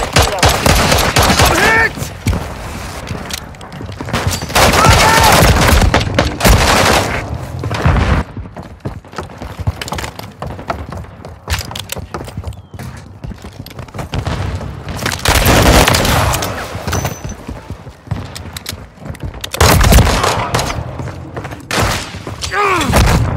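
Heavy gunfire in a Call of Duty match, dense bursts of automatic fire and booming shots in repeated loud waves with brief lulls, close and continuous, with shouted callouts mixed in.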